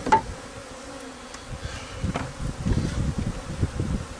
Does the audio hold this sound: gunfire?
no